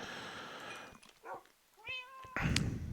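Minecraft cats meowing in a video game, two or three clear, close meows with rising and falling tones, separated by short pauses, followed by a louder burst of game noise.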